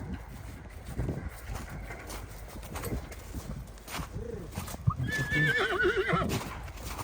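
A foal whinnies with rising and falling cries near the end, after a stretch of hoof clops and stamping, alongside a stallion, with birds faint in the background and a voice briefly heard.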